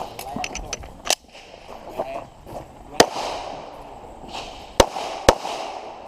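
Pistol shots ring out during a stage of an IDPA shooting match at an outdoor club range, a string of sharp cracks fired in quick bursts and spaced pairs with short pauses between them.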